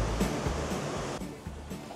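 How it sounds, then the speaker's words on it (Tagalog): Strong Pacific Ocean surf washes in at an island beach, a steady loud roar of churning water with rhythmic surges, close by and with no one speaking. "kaya siya ganyan kalakas ang alon."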